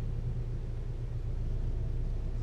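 A Volkswagen Golf Plus idles and slowly pulls away, giving a low, steady engine rumble at close range with no talk over it.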